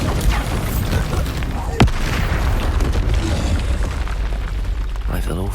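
A Bombarda spell blast in the Hogwarts Legacy video game, a sharp booming burst near the start that punches through dense, continuous combat noise and music, with voices shouting over the action.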